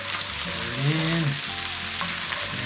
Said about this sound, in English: the onions will start taking on the color of the bacon, start to caramelize